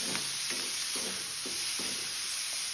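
Onions sizzling steadily in a hot pan along with curry leaves and thinly sliced green chillies, under a constant frying hiss with soft rhythmic stirring scrapes about every half second.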